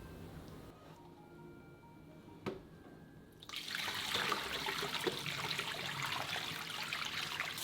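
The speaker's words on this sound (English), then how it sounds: "Rinse the Napa cabbage in running water until all the salt on the surface has been removed" A quiet room with a faint hum and one soft knock, then a tap opens and water runs steadily in a broad, hissing rush, rinsing salted Napa cabbage for kimchi.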